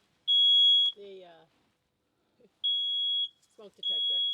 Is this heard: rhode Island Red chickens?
no